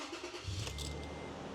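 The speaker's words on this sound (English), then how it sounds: "All right, so we have the car turned on." A Toyota FJ engine starts up with a short cranking burst and then settles into a steady low idle, close by and with no voices.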